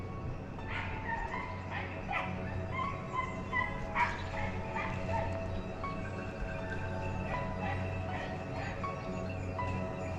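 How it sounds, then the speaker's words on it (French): Several hunting dogs bark and yip in repeated bursts at a distance while chasing game on a driven hunt, an excited chorus that rises and falls over a steady outdoor background. "Les chiens mènent devant moi et ça se rapproche sur ma gauche."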